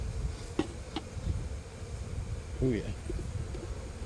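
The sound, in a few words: bees buzzing in a beehive gourd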